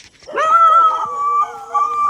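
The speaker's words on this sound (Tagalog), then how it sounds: "Baka manugod yung aso." A dog near an abandoned house in Siquijor lets out a long, sustained wavering howl-like cry, loud and close, holding steady over a couple of seconds with a brief dip before rising again.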